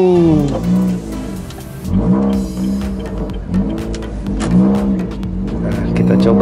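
A modified Honda Brio engine revs repeatedly, rising and falling in pitch in several loud surges, with a raspy exhaust tone close by.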